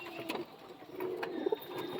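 Madras pigeons give soft, low cooing calls in a few short bursts, faint and close, with some background clatter and no talk.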